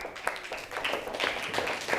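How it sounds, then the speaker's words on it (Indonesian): Scattered applause from students in a biology classroom, a few quick overlapping claps at moderate distance, brief and light. "dikasih aplaus ya Mas Said ya"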